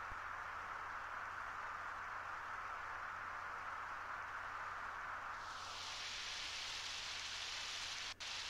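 Rain in the video game Undertale: a steady, even hiss of falling rain continues throughout, growing brighter and fuller partway through, with no talk.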